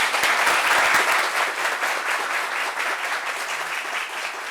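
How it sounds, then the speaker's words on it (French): A live audience at a talk-show gathering breaks into sustained, dense applause, loud at the start with sharp individual claps, then settling into a steady, slightly softer roar of clapping that continues throughout. "Est-ce qu'on peut applaudir pour elle, s'il vous plaît?"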